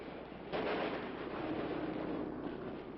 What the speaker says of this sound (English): here is evidence of their great skill in anti-aircraft fire